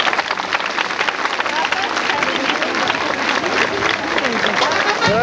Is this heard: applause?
yes